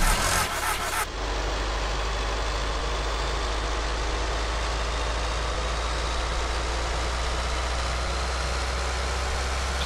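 A simulated tank engine in Machinery Modelling Toolkit cranks with a brief rough burst, then settles into a steady low idle rumble that drones on alone without any talking.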